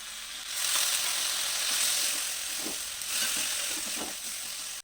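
Ginger and garlic paste, turmeric, chili powder and Kashmiri chili powder sizzling in hot oil in a pan for a small-fish dish with spring onions. A steady hiss runs throughout with light scraping stirs and no voices.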